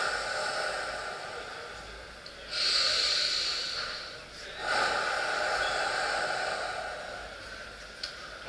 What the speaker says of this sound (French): j'expire longtemps